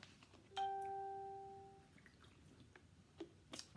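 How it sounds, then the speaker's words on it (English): Indoor door chimes strike once, sharp and clear, then a bright ringing tone fades over about a second and a half before a few faint taps and clicks in a quiet room. "Sorry for the chimes."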